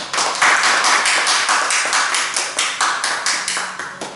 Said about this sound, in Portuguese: Vamos aplaudir o Senhor, que Ele merece toda a honra e toda a glória